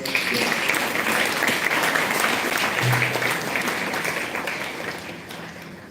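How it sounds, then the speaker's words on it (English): Audience at a college International Women's Day celebration claps in a dense, continuous wash that holds strong and then gradually fades toward the end. "I would request you to all kindly give a round of applause."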